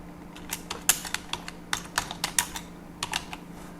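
Irregular keystrokes on a computer keyboard while C code is typed, clusters of crisp clicks with short pauses, near and moderately loud, no voices.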